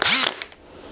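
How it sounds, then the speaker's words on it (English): Drill starting to bore a hole in silver sheet for stamped earrings, a short sharp whine and clatter at the start that quickly fades, followed by a few faint ticks and quiet room tone. "just holding the drill bit at a 90-degree angle to the silver"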